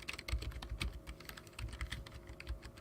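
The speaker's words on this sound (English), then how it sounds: "Who's typing? Is that you typing?" Rapid close typing on a computer keyboard during a live football stream, a dense irregular clatter of keystrokes with no talk over it.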